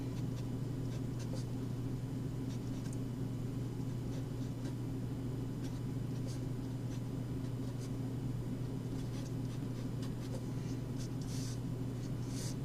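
An equation being written by hand, faint intermittent scratchy strokes of the pen over a steady low electrical hum in a quiet room.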